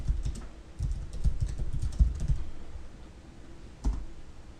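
Fingers type a search on a computer keyboard, a quick run of soft key clicks through the first half, then a lone sharper tap near the end, close and moderately quiet with no talking.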